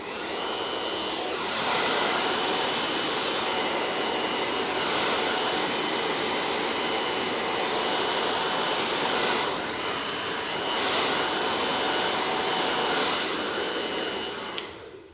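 A hair dryer blowing on freshly styled hair, a loud continuous close whooshing roar that runs steadily throughout with slight swells as it is moved.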